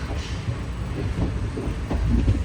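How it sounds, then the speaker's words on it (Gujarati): A train departing Ahmedabad rumbles along steadily, with a low rolling drone and faint rhythmic rail clatter, heard from inside. "ટ્રેન અમારી નીકળ પડી છે"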